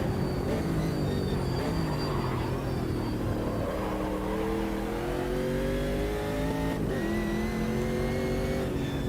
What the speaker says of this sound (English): Most of the 480 horsepower on the Camaro is used to make the noise.